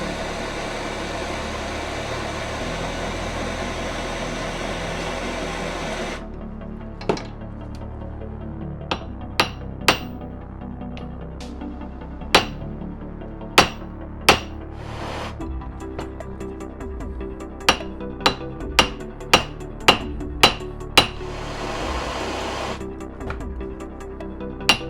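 Hammer blows flatten the heated end of a 1/16-inch stainless steel rod: sharp metallic strikes, at first sparse and then in a quicker run of about a dozen, close by over a steady background hiss.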